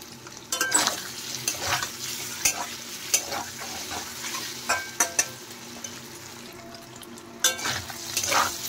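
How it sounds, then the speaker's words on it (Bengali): Paneer pieces frying in a pan for a vegetable paneer biryani, a steady sizzle broken by repeated scraping stirs of a spatula against the pan, close and fairly loud, with no talking. "পনিরটা বেশ ভালো করে ভেজে নেব।"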